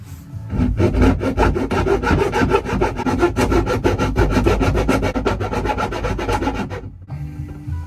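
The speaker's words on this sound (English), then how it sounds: "grind the wood a tiny bit with this thing and see if it fixes it" Wood being ground by hand with a rasp-like tool, a loud, rapid train of rough scraping strokes in quick rhythm that stops abruptly near the end, close and alone without voices.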